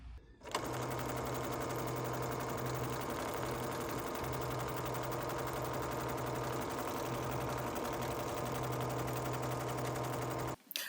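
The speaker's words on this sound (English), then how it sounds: "after you do your awesome circular embroidery attachment stitching" An embroidery machine with a circular embroidery attachment stitches through fabric, a fast steady mechanical whir and needle chatter, close and continuous for about ten seconds.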